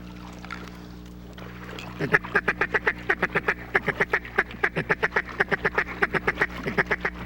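Ducks on water during a hunt, with more ducks flying over the trees, give a loud, steady run of close, evenly spaced quacks after a quieter opening over a low background hum.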